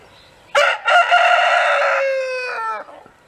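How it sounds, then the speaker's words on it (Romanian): A rooster crows at sunrise, sounding loud and close in one long, strained cock-a-doodle-doo that rises sharply, holds, then trails off against quiet outdoor background. "Asta, cocoșul probabil că de-aia urlă"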